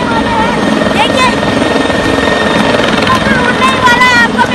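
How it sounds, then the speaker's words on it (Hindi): A helicopter with its engine running just before takeoff makes a loud, steady turbine whine and rotor drone close by, while someone talks continuously over it. "हेलीकॉप्टर उड़ने ही वाला है।"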